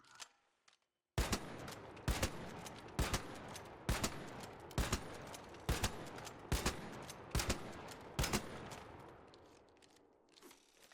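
Il Toro firing in the ARC Raiders video game: after a brief quiet start, nine loud, sharp shots ring out at a steady pace of roughly one per second, each trailing a short echo, with no talk.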